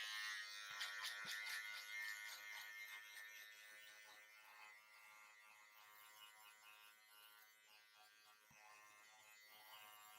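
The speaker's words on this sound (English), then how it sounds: "Trimmer." A zero-gap electric hair trimmer buzzes steadily and close during a middle-part burst fade mullet haircut, with a few brief clicks at the start and near the end, and no talking.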